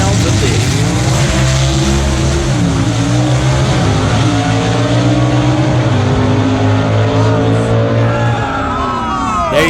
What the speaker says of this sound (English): Let's just sit back and listen to the sounds of this.